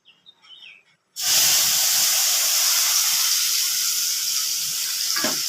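Poppy seed paste seasoned with salt and turmeric hits a hot pan with a sudden loud sizzle that holds as a steady, bright hiss, after a few soft clatters of utensils beforehand.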